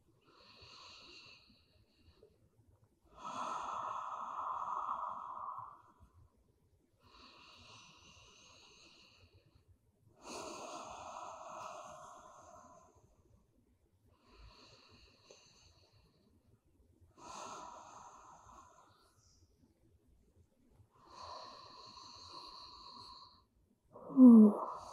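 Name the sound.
deep breathing during yoga relaxation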